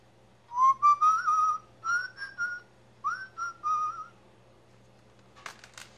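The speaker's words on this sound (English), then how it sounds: "I hear a zookeeper whistling in my ear" A person whistles a short tune in three clear phrases, fairly close, followed by a brief rustle.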